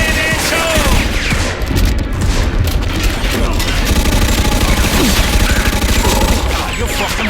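Gunfire in the video game Mafia 2 rattles in dense, continuous bursts, with loud overlapping shots and booms filling the whole stretch.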